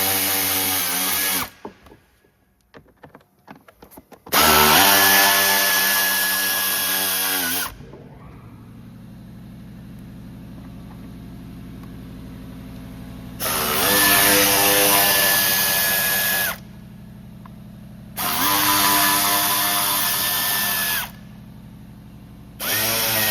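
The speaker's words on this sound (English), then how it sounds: "take all these screws out and remove this top." A power drill spins out Phillips screws from the airbox of a 2011–2015 Chevy Cruze 1.4T, several loud, close bursts of motor whine a few seconds each, separated by quiet pauses with low background hum.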